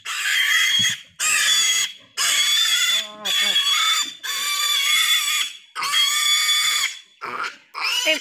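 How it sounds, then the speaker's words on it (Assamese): Pigs on a small farm in Assam squeal loudly in repeated high, piercing bursts of about a second each, separated by short gaps, with a few lower grunts mixed in near the start. "এইবোৰ গাহৰি তুমি ধৰিব নালাগে"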